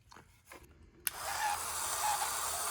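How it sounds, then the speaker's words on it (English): A small cordless screwdriver from a secondhand toolbox starts with a sharp click, then whirs continuously with a rough, harsh motor noise, close and steady with no talking. "I'm guessing, yeah, it's a little cordless screwdriver."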